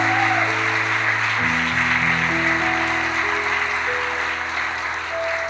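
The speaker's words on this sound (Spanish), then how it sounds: "Vamos a darle fuertes palmas ahora de gozo." A church congregation claps steadily in joyful praise during a Spanish-language service, continuous clapping over sustained instrumental chords.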